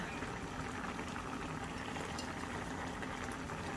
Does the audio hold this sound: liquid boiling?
yes